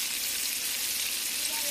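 Frog pieces deep-frying in a small pan of hot oil until crispy and golden, a dense, steady sizzle and crackle that holds evenly throughout at close range.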